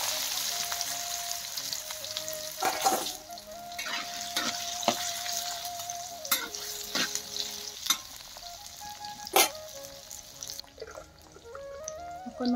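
Amla (Indian gooseberries) frying in hot oil with panch phoron, a continuous close crackling sizzle punctuated by irregular knocks and scrapes of a spoon against the pan, with no voices.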